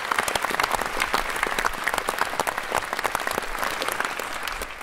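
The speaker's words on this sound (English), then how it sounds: "let's give them a round of applause" A conference audience in a hall applauds, dense sustained clapping from many hands at an even level for several seconds with no voices over it.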